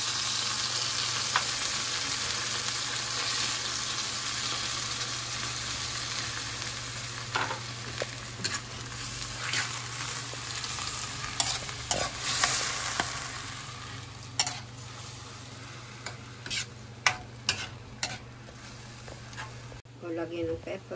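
Century tuna frying with cabbage in a pan, a constant loud sizzle with stirring scrapes and clinks of a utensil, while people talk over it.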